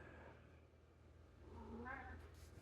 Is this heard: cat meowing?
yes